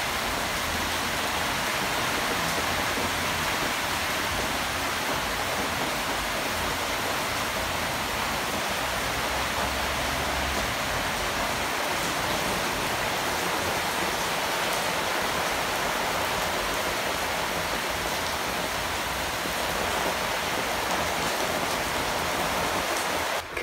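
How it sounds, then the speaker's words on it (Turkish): Steady rain falls outdoors, a dense even hiss of drops on surfaces that continues unbroken for the whole stretch at moderate level, with no voices. "Kızlar bir yağmur var, bir yağmur var."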